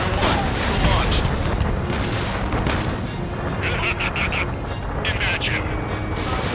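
Missile launch from a fighter jet in Ace Combat 7 during an anchorage raid on naval targets, a loud continuous roar of engine and combat noise with booming blasts and bursts of fire, radio voices talking over it.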